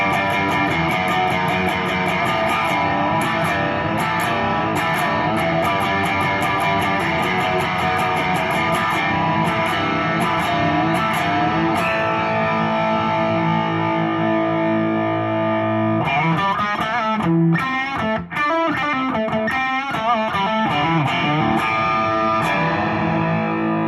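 Electric guitar through a Morning Glory overdrive pedal into a Milkman The Amp 50-watt amplifier, thick distorted chords ringing out with sustained crunch, then choppier rhythmic strumming in the later part; no talking.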